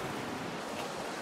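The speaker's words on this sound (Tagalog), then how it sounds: "Pag sinalubong mo yung bus na yan, hahampas sa'yo yung alon eh." Floodwater on a low-lying Metro Manila street washes outward as a passing bus pushes a wave through it, a brief, faint, surf-like rush.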